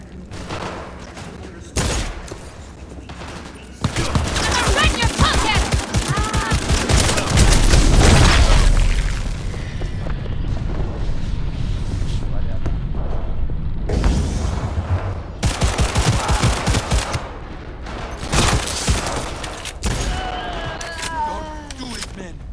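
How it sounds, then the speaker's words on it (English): Gunfire in the video game Cyberpunk 2077: loud bursts of shots and booming blasts in rapid, uneven volleys, with dialogue and speech mixed in throughout. "I'm under fire!"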